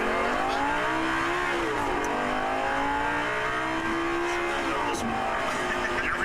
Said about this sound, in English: Go ahead and pull out here. Got all the mirrors adjusted for me. Okay. Accelerate on it.